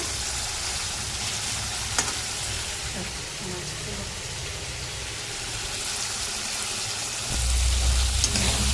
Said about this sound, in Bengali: মশলাটা ভালো করে কষানো হোক